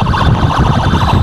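An emergency ambulance siren blares loud and near in heavy traffic, a harsh continuous wail filling the short stretch without pause.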